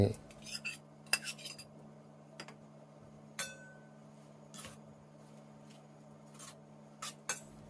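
Utensils toss a spicy minced pork salad with red chillies in a bowl for a boiled egg dish, producing quiet scattered metallic clinks and taps against a low steady hum.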